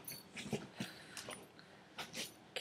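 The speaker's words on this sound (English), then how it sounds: "my dog is going crazy right now" A dog gives faint whimpers and small yips in short, irregular bursts, quiet and somewhat distant in an indoor room.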